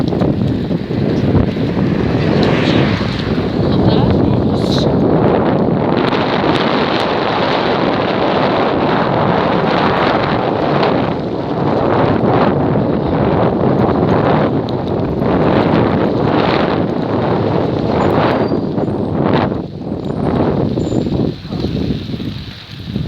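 Strong wind buffets the microphone throughout while cycling outdoors, a loud, continuous roaring rush with gusty surges and no clear talk above it.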